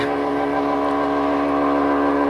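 Truck passing on a street outside, heard as a loud, steady droning rumble with a strong humming engine tone that fills the whole stretch without letup.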